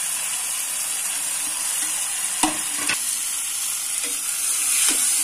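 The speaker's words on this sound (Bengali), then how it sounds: "3-4 মিনিট খুব ভালো করে ভেজে নিব" Boiled potatoes fry with masala in a pan, giving a constant sizzle broken by several clattering spatula stirs and scrapes, the frying swelling slightly louder near the end, with no talking.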